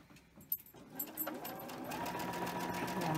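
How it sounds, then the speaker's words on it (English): Sewing machine chain stitching binding onto fabric, starting after a brief pause with a few clicks and then building into a steady, continuous whirring hum that grows slightly louder to the end. "I'm just going to chain stitch this."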